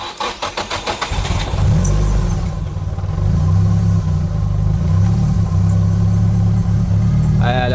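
A car fitted with a Z32 MAF sensor cranks briefly with rhythmic starter pulses, catches, and settles into a loud, steady idle that runs on without revving, with brief voices near the end.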